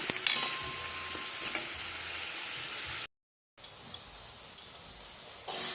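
Fish cooking in a pan gives a steady, close sizzle and spatter. A brief gap of silence breaks it midway before the frying resumes unchanged.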